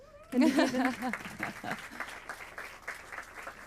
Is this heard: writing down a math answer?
no